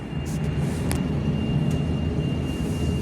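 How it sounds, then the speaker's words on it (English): An AirAsia Airbus A320 landing at Perth airport gives a steady, broad jet roar heard from an indoor viewing platform, with a faint high whine over it and a few light clicks nearby. "AirAsia Airbus A320 is landing at Perth."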